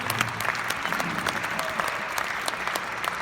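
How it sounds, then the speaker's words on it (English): A country music event crowd claps steadily, a dense and even round of applause at full strength throughout. "Can you give Scott a nice round of applause?"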